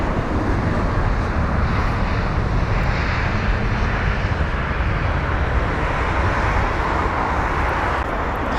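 An Airbus A320neo, registration G-TTNN, arriving from Hamburg at London Heathrow, with a steady, loud jet engine roar that holds level throughout, mixed with broadband rumble and a little wind noise.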